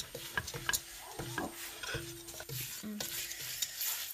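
Apple pickle with Kashmiri chili powder being stirred in hot oil, a spoon scraping and tapping the pan in short repeated strokes over a soft sizzle, close and fairly quiet.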